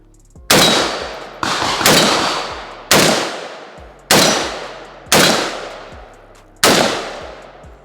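Six slow, evenly spaced rifle shots from a Zastava M70AB2 AK fired at steel targets, each a loud, sharp crack with a ringing tail that fades before the next shot. No one talks between them.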